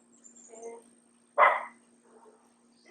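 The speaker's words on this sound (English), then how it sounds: "She's barking at that neighbor stuff." A dog barks once, a short sharp yap at moderate distance, with faint murmuring before and after in an indoor setting where indigo dye is being mixed.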